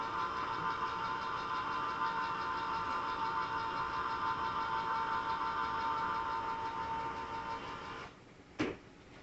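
A Hamilton Beach electric can opener runs with a steady motor whir and high-pitched mechanical drone for about eight seconds, close by, then cuts off with a brief clunk near the end.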